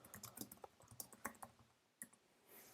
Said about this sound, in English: So I'm typing something here